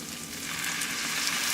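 Rice vinegar hitting a hot pan of tofu for a vegan poke bowl, giving a loud, steady hiss and crackling sizzle that holds without a break throughout.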